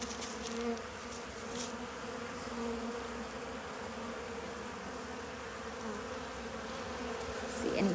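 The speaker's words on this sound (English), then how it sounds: "I think I have about 20 bees on me." Honeybees swarm around a beekeeper working an open hive, their dense, steady buzzing droning close and continuous, with a few louder passes of individual bees near the microphone.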